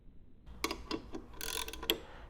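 A ratchet wrench tightening the off-contact and tilt bolts on a screen printing press gives a series of close, sharp mechanical clicks and short ratcheting bursts, heard alone without talk.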